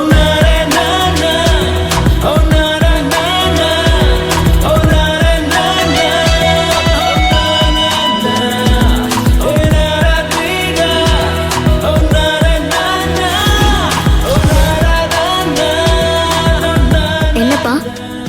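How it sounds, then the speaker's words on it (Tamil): Loud, full-band music with steady beat and dense melody plays continuously over a car's Bluetooth speakers for the whole stretch, with no talk over it. "என்னப்பா, மியூசிக் நல்லா இருக்குல்ல?"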